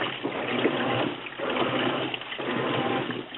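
Water pouring out in a continuous splashing rush, swelling and easing in waves over a few seconds, close and fairly loud with no talk.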